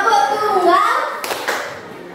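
A short burst of hand claps from children in a classroom clapping game follows a voice, quick and close, with speech fading out around it.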